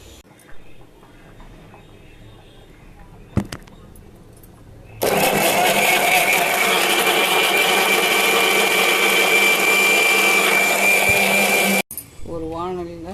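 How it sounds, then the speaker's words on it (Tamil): A mixer grinder blends chopped onions with fennel and cumin, starting with a loud, steady whirring roar that runs about seven seconds after a quieter stretch with a voice, then cuts off abruptly before more voice follows. "இதை அரிஞ்சு மிக்சியில் போட்டு அரைச்சி வச்சுக்கணும் தொக்கு செய்ய"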